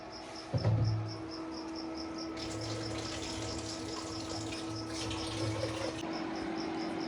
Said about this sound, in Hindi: अभी मैं इसको अच्छे तरीके से धो लूँ